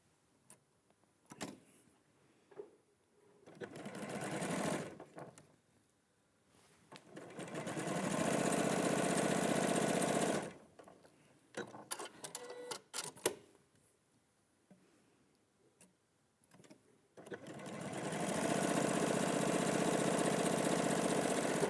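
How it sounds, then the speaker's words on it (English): A sewing machine stitches pairs of quilt triangles in three steady whirring runs separated by pauses and small handling clicks, loud and close. "Okay, and I'm just going to sew those."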